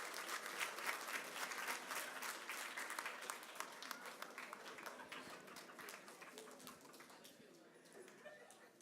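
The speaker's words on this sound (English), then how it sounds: "find your family in the crowd and give them a round of applause" Sustained applause from a graduation crowd at a charter school ceremony, dense clapping that stays steady and loud before easing slightly toward the end, with faint bird coos in the background.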